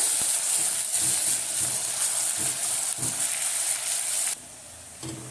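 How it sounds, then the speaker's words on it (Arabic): Onion sautéing in a pan while tripe is being prepared, a loud continuous hissing sizzle with soft stirring scrapes that drops sharply in volume near the end, no talking. "هبدا بقى اشوحها بالشكل ده"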